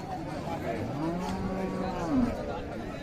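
A Friesian cow moos at a busy village cattle market, the drawn-out low call rising near the end while crowd chatter and voices carry on around it.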